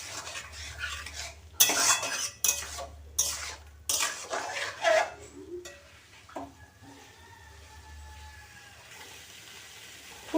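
Cauliflower stirred in a pan with a splash of spiced water: several loud scraping and clattering strokes of a utensil against the pan over a low sizzle, then the stirring stops and a quieter simmer remains.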